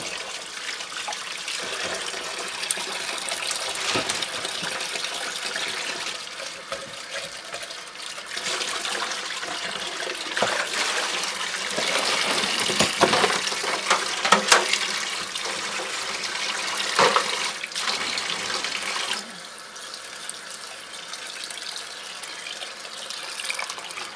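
Water runs continuously from a sink tap while porcupine quills boiled in mordant are rinsed, a close, steady splashing rush that swells louder midway and softens toward the end.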